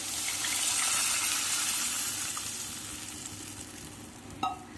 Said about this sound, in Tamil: நம்ம கரைச்சி வச்ச புளி தண்ணியை இதில் சேர்த்துக்கலாங்க.